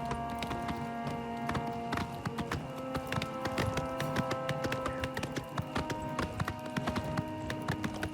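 Horse hooves clip-clop steadily in the video game Oblivion Remastered, a continuous rhythmic run of crisp taps with a faint musical backdrop and no talk over it.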